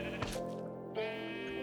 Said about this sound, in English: Sean the sheep.